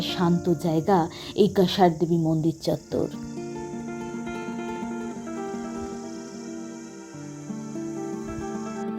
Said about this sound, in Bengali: আশেপাশে ঝিঝি পোকার ডাক থেকে আশা করি বুঝতে পাচ্ছেন যে কতটা নিরিবিলি